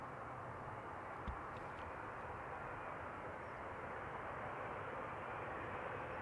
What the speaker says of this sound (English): there is a Dreamliner from Air Canada about to touch down